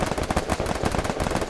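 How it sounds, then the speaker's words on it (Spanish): Rapid bursts of gunfire in a dense, continuous stream, loud and close, like automatic weapons firing in a Free Fire squad match. "Vean cómo hay disparos."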